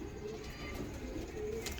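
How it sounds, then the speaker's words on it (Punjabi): Pigeons in a small flock of about twelve to fourteen birds coo softly at a distance. The low murmur runs steadily under a faint background hum. "ਇਹ 12-14 ਕਬੂਤਰ ਆ ਭਾਜੀ"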